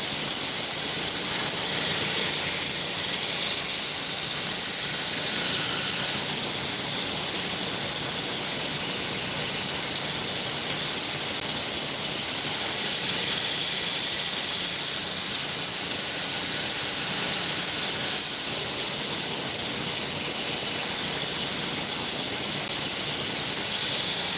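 A knife edge is ground thinner on a 120-grit belt, producing a loud, continuous abrasive hiss with a high whine that swells and eases in long passes, with no talk over it.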